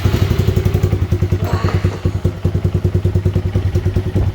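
A Honda Grom motorcycle engine starts and runs close by with a rapid, steady putter, revving slightly midway before settling back into an even idle.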